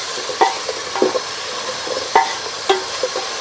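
Vegetables for a vegetable biryani sauté in a pan over a constant hiss of frying, with a few sharp utensil clinks and scrapes spaced out across it, close by, no voices.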